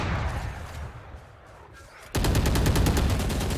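A rapid spray of automatic gunfire in the Valorant video game bursts in suddenly after a quieter stretch, continuing as a loud stream of tightly spaced shots.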